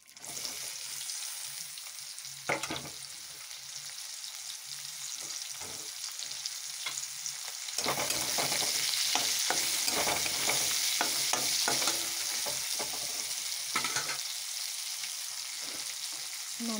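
Chopped onions fry steadily in a pan with bay leaves, a continuous broad sizzle that swells louder midway, broken by occasional scrapes and stirring clatter, close by and with no voices.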